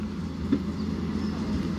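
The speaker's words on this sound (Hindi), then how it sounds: "down local train is moving towards Hooghly railway station" An Indian Railways down local train moves toward Hooghly railway station, giving a steady, moderately loud rolling rumble with faint mechanical clatter and no voices.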